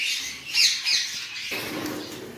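Pet birds, cinnamon pearl and lutino pairs, squawking in a cage: a couple of harsh, close squawks followed by a continuous chattering background.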